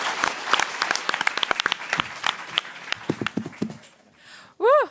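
Audience applause wrapping up a university case competition final round, loud and dense at first, then thinning to scattered claps as it fades, ending with a brief rising whoop.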